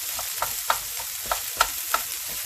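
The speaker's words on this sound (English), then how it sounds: "Let's get our little spatula so we can mix that around. Saute that right up." Onions and peppers sauté in a pan for barbecue sauce, a quiet sizzle beneath a run of distinct spatula scrapes and taps, about six evenly spaced strokes.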